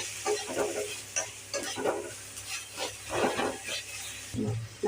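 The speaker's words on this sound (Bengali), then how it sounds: "এবার আমি নেড়ে নিচ্ছি।" A spoon stirs frying spices in a pan for a tilapia curry, with salt, coriander, chilli and cumin powders scraping and sizzling in steady close strokes.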